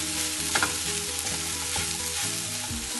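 Sabudana khichdi with ground peanut paste stirred gently in a hot pan, a steady close sizzle of frying with soft scraping of a spoon through the mixture and light clinks, continuous throughout.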